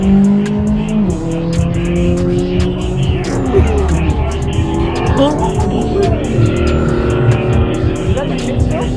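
A drift car on a racing track in Las Vegas roars past with rising and falling engine pitch and squealing tires, amid crowd noise and voices talking nearby.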